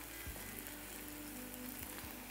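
Fish frying in hot oil, a steady loud sizzle and crackle with a few soft pops, close by and with no voices.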